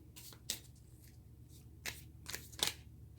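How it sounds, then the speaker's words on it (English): Tarot cards being shuffled and drawn by hand, soft close riffles and flicks coming in a few separate bursts against a quiet room, with no talking. "let's get a few cards from the universe."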